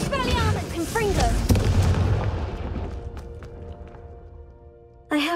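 A Confringo blasting spell goes off in Hogwarts Legacy, a heavy boom with rumbling decay that fades over several seconds. Spoken voices come before it, and a second sharp blast hits near the end.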